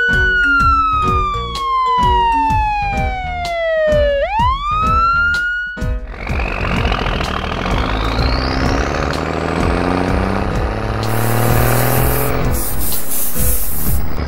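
A police car siren wails loudly and steadily, its tone sweeping down and then back up before rising into a harsher, noisier blare that carries on to the end.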